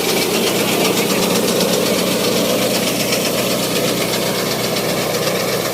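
A small engine powering a mini multicrop wheat thresher runs steadily and loudly, a continuous dense rumble with mechanical vibration and no pauses.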